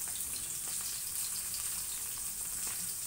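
Pomfret fish coated in red masala frying in oil, a dense continuous sizzle with faint crackles, steady and close with no talk.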